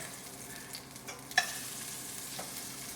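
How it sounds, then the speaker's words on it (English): Butternut squash apple burger patties browning in a pan give a soft, steady sizzle with a single sharp tap of a utensil midway, fairly quiet and close, no talk. "2 patties and let that cook and let it just brown, okay, on both sides"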